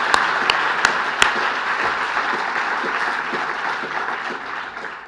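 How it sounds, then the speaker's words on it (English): Applause at a graduation ceremony: a crowd claps steadily, a few sharp individual claps standing out near the start before the sound settles into an even, sustained patter that slowly eases. "Un grand applaudissement pour Alexandra Gessens."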